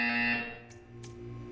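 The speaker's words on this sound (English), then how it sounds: "You will hear a buzzer. When you hear the buzzer, stare at the art." Buzzer in the video game Portal 2, a sustained electronic alarm-like tone with layered harmonics that sounds alone for about a second and a half, dipping briefly midway.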